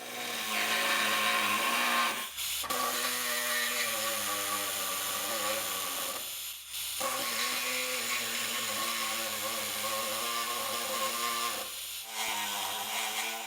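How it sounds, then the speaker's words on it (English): A step drill whines loudly through the corners of a metal rear bumper for a Jeep Cherokee XJ in long sustained bursts, briefly pausing twice between runs. "the corners drilled with a step drill"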